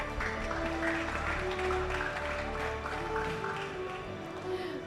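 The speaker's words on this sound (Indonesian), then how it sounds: "Bapak Ibu boleh berikan tepuk tangan yang meriah dong." Audience applauding at a health programme session of an innovation festival demo day, steady dense clapping that holds throughout at a moderate level under a continuous hum.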